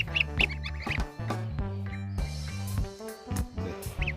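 Repeated honking calls of wild geese, several in quick, uneven succession, fairly close and loud.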